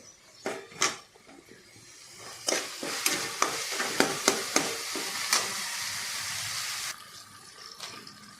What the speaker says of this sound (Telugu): మన టమాటోస్ కూడా ఫ్రై అయిపోయాయి కానీ ఇంకొంచెం కావాలి